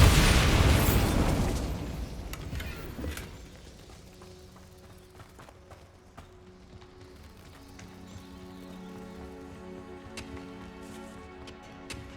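A Bombarda blasting spell explodes in Hogwarts Legacy: a loud, close burst opens the sound and its rumble fades over a few seconds, leaving quiet game ambience and faint ticks.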